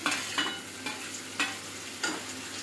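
Onions and tomatoes frying in a pan for a dry soybean gravy, a soft steady sizzle with four or five spaced stirring scrapes, fairly quiet and without speech.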